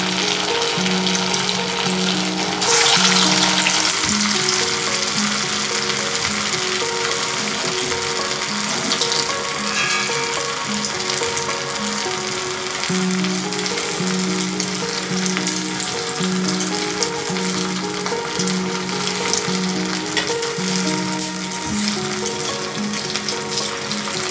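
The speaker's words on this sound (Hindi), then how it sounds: "ऐसे छोटे छोटे चार चार बड़े एक साथ बना के आप इसको फ्राई कर लीजिए" Sweet corn vadas deep frying in oil sizzle and crackle steadily and loudly for the whole stretch, a dense, continuous hiss without pauses.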